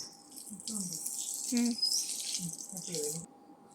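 Water splashing and pouring across a sitout floor before scrubbing, a steady watery rush with gurgling bursts that swells near the middle, close by under faint voices.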